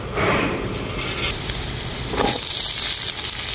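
Long-cut potatoes hitting lightly fried onions in a hot pan, a close, steady sizzle and crackle with a fresh burst of frying partway through as the pieces settle into the oil.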